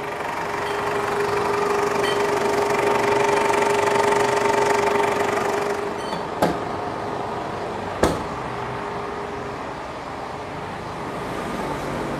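Ford Everest engine running steadily, a continuous hum of moderate loudness with two sharp clicks or knocks late on, no talk.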